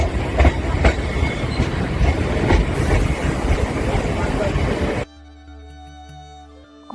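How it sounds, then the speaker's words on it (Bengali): Rumbling clatter of a moving local train bound for Bandel Junction, heard from inside with rhythmic wheel knocks for about five seconds before cutting abruptly to a quiet tonal passage. "আমরা লোকাল ট্রেন চেপে"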